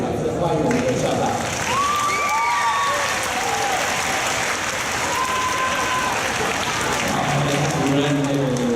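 An audience in a university lecture hall claps steadily to welcome the school president, a dense, continuous round of applause with a voice speaking over it.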